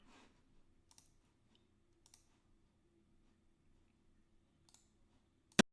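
Password typed on a computer keyboard: a few sparse, faint key clicks scattered across a quiet stretch, ending in one sharper, louder click, with no talk.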